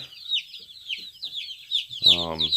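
Several chickens cluck and chatter continuously at close range, with one louder, throatier squawk near the end.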